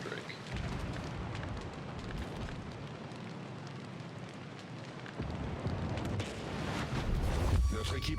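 Naval gunfire from a battleship in World of Warships rumbles as dense, booming blasts and a roaring wash of battle noise, with a voice talking over it at times.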